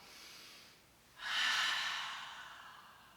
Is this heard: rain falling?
no